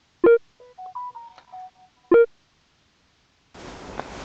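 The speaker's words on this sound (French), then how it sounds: "J'ai oublié de couper la sonnerie de mon téléphone." A mobile phone sounds a short electronic ringtone: two sharp tonal bursts framing a quick melodic run of beeps, close and clear, followed by a brief noisy background after a pause.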